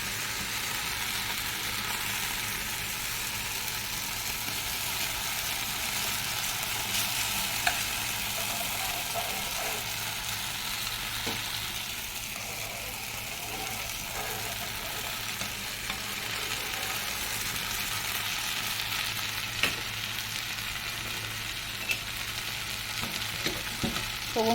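A flatbread frying in ghee in a pan gives a steady, close sizzle that hisses continuously, with occasional small pops and crackles and no talking.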